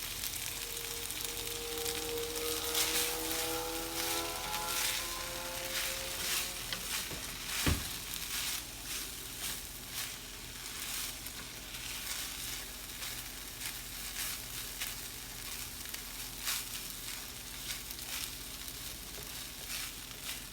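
Fried rice with salt sizzles steadily in a hot pan, a continuous close crackle of frying with a brief stirring clatter near the start and no talking.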